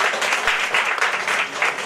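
Audience applause at a Georgian women's council meeting with emigrants, a dense, steady patter of many hands clapping indoors throughout.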